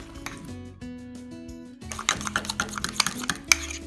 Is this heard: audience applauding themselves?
no